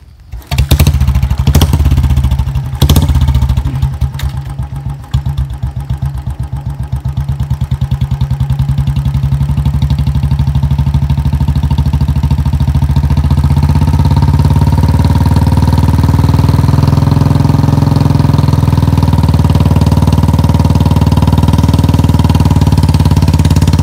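A Royal Enfield Bullet motorcycle engine starts with a few sputtering revs, then settles into a loud, steady, throbbing idle close by.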